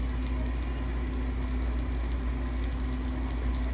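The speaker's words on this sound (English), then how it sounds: "just saute this up and sweat it a little" Vegetables with cayenne and brown pepper sauté and sweat in a hot pan, giving a steady, continuous sizzle and soft crackle at close range, with no talking.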